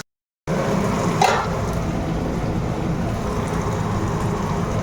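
Fish frying in oil in a pan for a home-cooked Bengali meal gives a steady, close sizzle that holds evenly throughout, with a brief louder crackle near the start and no talking.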